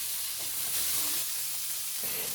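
About 250 grams of minced pork stir-frying in a pan for spaghetti kaprao gives a dense, close, continuous sizzling hiss, with a few brief stirring scrapes mixed in.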